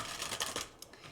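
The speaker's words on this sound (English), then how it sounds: "One last shuffle" Tarot cards shuffled by hand in a few quick, soft riffling bursts, faint and close, with no voices.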